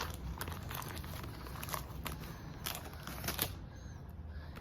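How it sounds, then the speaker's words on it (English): Close, soft crinkling and scraping as a Mattel Corythosaurus dinosaur toy package is cut open, with irregular taps and plastic rustles at low volume. "Let's just cut open this thing."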